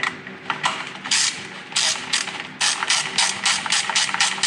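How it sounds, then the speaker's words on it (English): A short ratchet snugging car oil pan bolts on a BMW E39 M5 during a gasket replacement, quick close bursts of clicking ratchet strokes in irregular runs, loud and alone. "That's why I'm using my short ratchet, so I don't get crazy."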